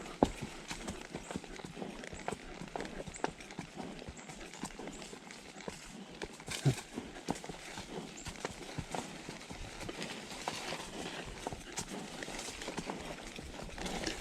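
A horse's hooves clip-clop at a steady, brisk rhythm on a summer trail ride, a faint continuous patter of close footfalls with the odd louder strike.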